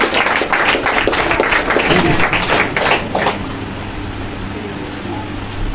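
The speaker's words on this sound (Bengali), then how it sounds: "সবাই একবার জোরে হাততালি দেব।" An audience at an office inauguration in Barasat claps loudly for about three seconds before the applause stops, leaving a steady hum of fans or air conditioning in the room.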